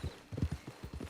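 Horse hooves clip-clop at a steady walking pace in Red Dead Redemption 2 Online, a series of soft, close thuds with quiet ambience and no talking.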